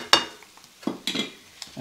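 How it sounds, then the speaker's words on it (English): A pound of hamburger meat dropping into browning garlic in a pan on an electric stove, with a sharp sizzle burst at the start and a few scraping stirs afterward, fairly close. "Okay, so the garlic is starting to brown, so I'm going to go ahead and add the hamburger meat to it."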